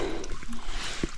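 A small mountain stream flowing steadily at a trailside water source on a hike near Dicks Creek Gap, its close, continuous gurgle and trickle filling the short moment alone.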